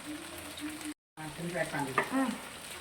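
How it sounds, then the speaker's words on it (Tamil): Biryani being stirred in a large pot with ghee, a steady sizzle and scraping with a brief dropout, a voice talking over it. "பாருங்க எவ்வளோ அழகாக கிண்டுறாங்க. நெய் அப்படியே"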